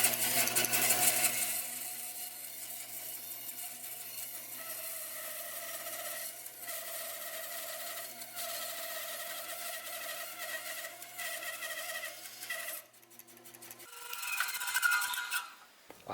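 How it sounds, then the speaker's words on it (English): A bandsaw with a worn blade cuts freehand through a maple hatchet handle blank, giving a steady rasping whine that holds for about thirteen seconds, then drops and stops, with a brief louder rasp near the end. "I'm certainly due for a new bandsaw blade"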